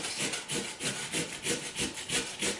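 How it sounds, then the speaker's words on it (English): A carrot is rasped back and forth on an old hand grater in quick rhythmic strokes, about ten scraping passes, close and fairly quiet with no talking. "I'm just going to grate up about 2/3 of this carrot"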